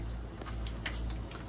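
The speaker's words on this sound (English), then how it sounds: "halfway down, water's filling the bowl" Water trickles and drips into an RV toilet bowl as the foot pedal is pressed halfway down in a 2024 Forest River Salem FSX travel trailer, a quiet, close, continuous filling sound with no talking.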